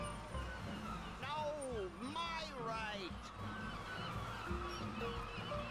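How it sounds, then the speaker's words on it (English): Seagulls in the adventure video game Broken Age give several squawking, rising and falling cries in quick succession over a soft, steady background. "These seagulls seem to really like fish guts."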